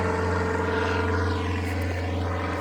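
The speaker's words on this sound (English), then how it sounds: "oh look, here's a little private plane" A small private propeller plane takes off from a private field, its engine droning loud and steady with a strong low hum and whining harmonics, filling the clip without any talking.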